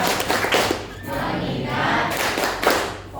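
Hands clapping in rhythm during a children's focus clapping chant, a few sharp close claps in quick bursts between chanted words.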